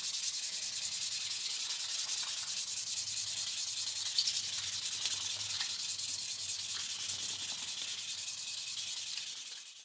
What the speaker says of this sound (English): So now we're just wet sanding with 800 grit.